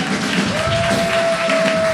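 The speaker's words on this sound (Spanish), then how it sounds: "Si le vas a dar ese aplauso, que sea bien fuerte" Church congregation applauding during a Sunday service, a steady, full wash of clapping from a large gathering with a thin sustained tone running through it, continuing for the whole moment.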